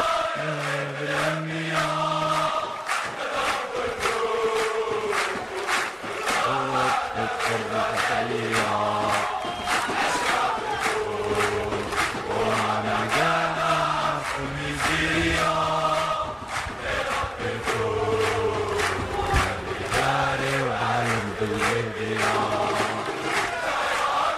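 A large stadium-style crowd sings a song together in unison, voices swelling with a steady rhythmic beat of clapping or drums, loud and continuous throughout.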